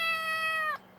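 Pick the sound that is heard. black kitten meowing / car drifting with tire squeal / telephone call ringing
black kitten meowing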